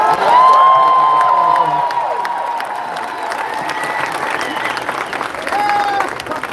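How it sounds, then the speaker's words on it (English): A large concert crowd in Munich cheers and applauds loudly, a steady roar of clapping with whoops and whistles that stays strong throughout, and voices can be heard nearby. "They're cheering for you again, Eric."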